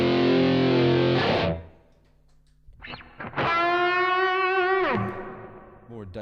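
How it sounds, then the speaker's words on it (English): A heavily distorted electric guitar played through a Boss ME-80 multi-effects unit plays a riff of thick sustained chords, pausing briefly before bending, gliding notes return loud and close. "Another big riff sound."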